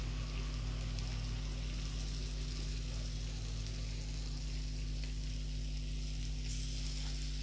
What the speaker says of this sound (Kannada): ಶಾಲೋ ಫ್ರೈ ಮಾಡ್ತಿದ್ದೀನಿ.